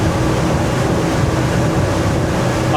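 A Boston Whaler 330 Vantage motorboat runs at steady reduced speed around 3,800 RPM, its engine drone blending with constant water rush and wind at close range, with no talking.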